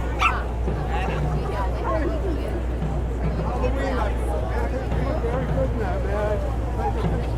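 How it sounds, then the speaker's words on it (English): Small chihuahuas bark and yip amid a crowded outdoor street gathering at a New York Easter parade, short sharp barks mixed into steady crowd babble and nearby talk. "All these small dogs, all chihuahuas over here."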